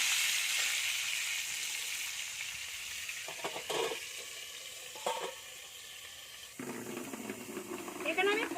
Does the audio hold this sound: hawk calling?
no